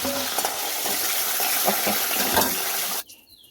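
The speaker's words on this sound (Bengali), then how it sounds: "এগুলো আমি এবার কড়াইতে ছেড়ে ভেজে নেব" Pointed gourd (potol) frying in a wok, a loud, steady close sizzle with stirring scrapes that cuts off abruptly near the end.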